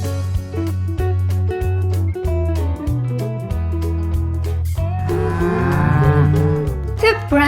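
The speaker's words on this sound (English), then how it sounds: "The Brahman Cow." A Brahman cow moos in long, loud, low bellows, several in a row, over a backing of music.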